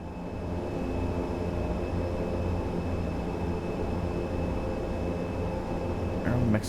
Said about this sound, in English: Having to hold airplane back, it just wants to taxi right into the back of it.